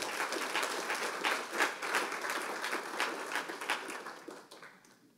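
A church congregation gives a strong round of applause during a sermon, a continuous patter of many hands that stays fairly even and then fades out toward the end.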